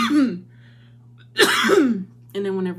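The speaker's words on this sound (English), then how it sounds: "whenever I get excited, I cough" A person coughs and clears the throat in short bursts between brief voiced sounds, close and fairly loud.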